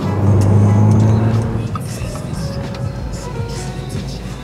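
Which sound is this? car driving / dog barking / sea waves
car driving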